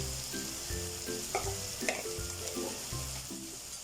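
Onion sautéing in hot oil with pepper powder while ginisang patola cooks: a steady close sizzle with a few sharp spatula scrapes and clicks against the pan, and no talking.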